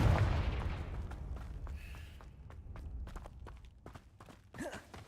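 Confringo spell cast in a Harry Potter video game, a loud blast that decays into crackling game sounds with scattered footsteps and hits, followed by a brief whooshing effect near the end.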